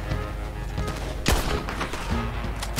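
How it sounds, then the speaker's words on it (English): Gunfire in the Red Dead Online video game, a scattered volley of sharp cracks with one loud close shot in the middle and fainter shots around it, with no talking. "Oh, crap! Gunfire."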